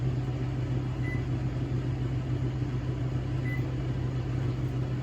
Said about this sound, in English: I'm going to put it in the microwave, and I'm going to hit the potato set.